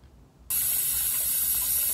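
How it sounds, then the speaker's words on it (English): A 3D printer part is rinsed under running water, the flow cutting in abruptly after a short quiet moment and then rushing loudly and steadily to the end. "Rinse it off, throw it in some water, allow that to absorb."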